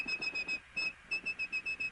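A person whistles a quick series of short, steady high-pitched tones in an even rhythm, imitating telephone dialing tones.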